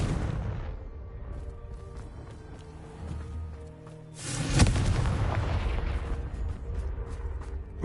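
A Confringo explosion spell in the video game Hogwarts Legacy: a heavy boom bursts out midway over a rumbling, busy game soundscape, with a lingering rumble afterward.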